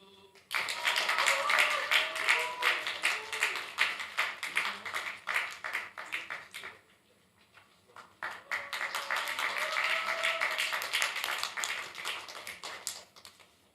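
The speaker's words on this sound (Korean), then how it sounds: "박수" Congregation applause at a church youth service, two bursts of dense hand clapping, each several seconds long and separated by a brief lull, loud and close in the hall.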